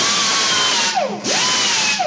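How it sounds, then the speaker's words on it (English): An angle grinder works sheet metal near the holes and edges to be welded, a loud, continuous whine that dips in pitch under load and recovers twice. "we'll grind right on the holes and right where we're going to be welding"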